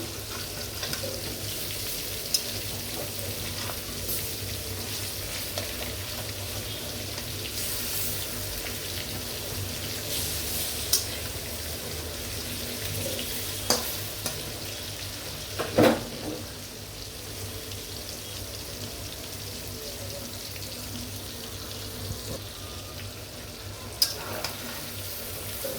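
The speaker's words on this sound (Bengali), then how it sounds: "মুরগিটা হালকা ভাজা দিব" Chicken pieces lightly frying in oil in a pan make a soft, continuous sizzle with occasional stirring scrapes and clinks, fairly quiet and close, with no talking.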